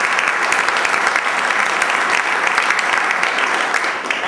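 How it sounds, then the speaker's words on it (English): A conference audience applauds the event sponsors with steady, dense clapping across the whole stretch, evenly loud and continuous with no voices over it. "A round of applause for the sponsors."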